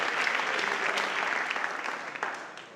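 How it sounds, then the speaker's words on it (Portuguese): A church congregation claps together in sustained applause during a worship service, dense and steady, close and fairly loud, tapering off slightly toward the end. "uma salva de palmas para o nosso Senhor Jesus Cristo"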